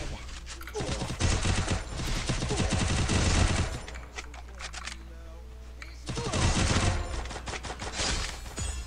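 Rapid bursts of gunfire in the video game Free Fire, dense automatic volleys in two long clusters with a short lull between, loud and close, with a player talking over the shots.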